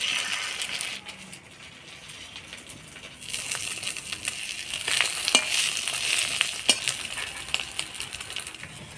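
An egg omelette with leaves fries on low heat in a pan, a soft steady sizzle with scattered sharp clinks and scraping taps, rising louder toward the middle, close and with no talking.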